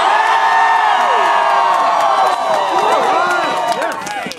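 High school crowd in an East High School gym screaming and cheering at a rally, a loud sustained wave of shouts and whoops that begins to fade near the end.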